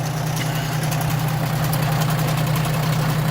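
A tiller tractor's engine runs steadily with its PTO engaged, a loud, even mid-low drone that holds constant and close throughout with no voices over it.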